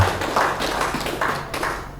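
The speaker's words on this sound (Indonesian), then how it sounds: "mari kita tepuk tangan untuk dua penarik kita" A room of people clapping for two presenters at a school training session, a fairly close, steady patter of hand claps with slight swells, no talking over it.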